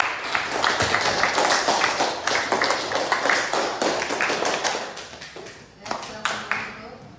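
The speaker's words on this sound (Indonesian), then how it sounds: "Dan tepuk tangan untuk teman-temannya." Students in a classroom clap for their classmates after a peer-teaching presentation, lively clapping that is strong at first and thins into scattered claps toward the end, with voices mixed in.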